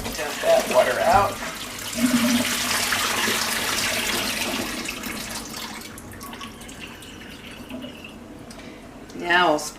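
Water is poured and splashed out of a container after washing produce in a kitchen, a sloshing, trickling rush that fades midway, then a short burst of splashing at the end, close by and alongside speech.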